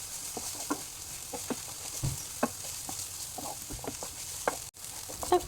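Finely chopped tomato and vegetables sauté in a hot pan with a steady sizzle, broken by scattered scrapes and taps as the spoon stirs them.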